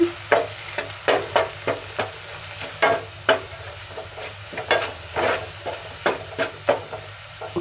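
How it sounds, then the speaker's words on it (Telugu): A coconut and onion paste fried with turmeric in a pan, sizzling steadily while a spoon scrapes and stirs in a quick, regular rhythm of more than a dozen strokes, close and clear, without speech. "రెండు నిమిషాలు ఫ్రై చేసుకుందాము పచ్చివాసన పోయేదాకా"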